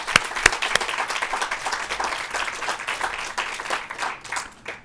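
An audience at a hospital quality summit breaks into applause, a dense, continuous patter of many hands clapping at moderate volume, steady throughout with a few sharper claps near the start.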